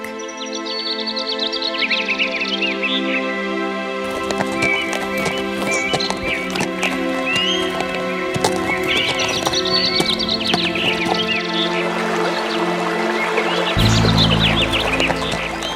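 Rhythmic hooves clip-clop steadily amid a busy farmyard, with bird chirps and animal bleats mixed in; no neigh stands out clearly.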